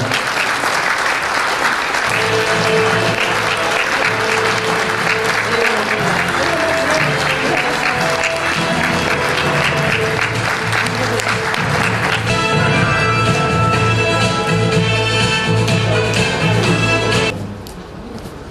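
Sustained, loud applause from an indoor audience welcoming the newly inaugurated president of a Bucheon volunteer association. The clapping stays dense and steady throughout, then drops off sharply near the end.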